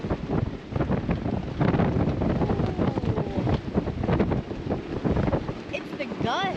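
Strong wind gusts buffet a sailboat at anchor, a loud continuous roar and rumble of wind across the microphone with a voice briefly heard underneath.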